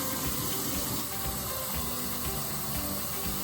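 Water pours steadily from a container into the center of a baking pan of apples, making a continuous splashing hiss with no talking.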